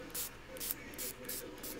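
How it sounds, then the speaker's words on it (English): A Glimmer Mist spray bottle of Wheat Fields colour mists onto paper in a quick series of about five short, hissing bursts, close and fairly soft. "spray the Glimmer Mist"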